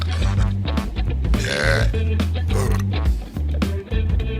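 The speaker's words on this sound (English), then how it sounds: "watch how a real man burps" A man lets out a long, loud, drawn-out burp, deep and rumbling, close up and dominating, with other voices and laughter faintly around it.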